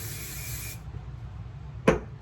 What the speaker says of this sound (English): And then I'll spray it.